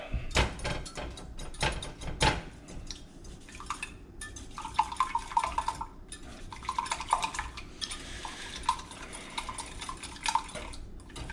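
Four eggs are beaten with a whisk in a bowl for an omelette, making brisk, irregular clinking and tapping against the bowl, with occasional louder knocks and no speech.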